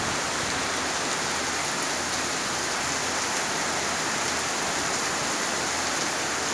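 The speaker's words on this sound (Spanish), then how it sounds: "Miren nomás, qué chulada de lluvia." Heavy rain pours steadily during a strong storm in Cuauhtémoc, a dense, loud hiss without breaks throughout.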